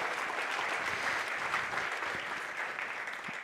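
At a water conference, the audience applauds a film with a steady, moderately soft crowd clapping that holds evenly, then starts to fade at the very end, without any voices.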